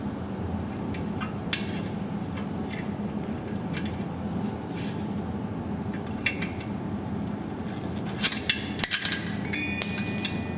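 Pliers working a pin out of an electric bike's brake caliper, heard as scattered light metallic clicks and clinks over a steady low background hum, with a sharper cluster of taps toward the end.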